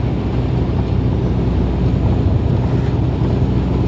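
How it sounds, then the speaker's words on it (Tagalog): Steady, roaring wind buffets the microphone during rainy weather, a constant low rumble with no breaks. "Malakas ang hangin."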